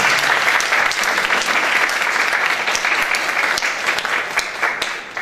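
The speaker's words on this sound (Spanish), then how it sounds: "Les pido un fuerte y caluroso aplauso nuevamente para Ana Martini." Audience applause at a book presentation during a literature week event, a steady, dense clapping from a crowd lasting the whole stretch without pause.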